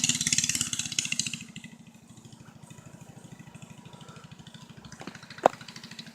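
Engine of a homemade three-wheel motor bike running, a steady rapid putter that is louder and rougher at first, then settles into an even idle-like chug, with a sharp clack near the end.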